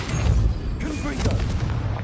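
A Confringo explosive spell in Hogwarts Legacy: loud booming blasts with a deep rumble and crackling tail filling the whole moment, close and heavy.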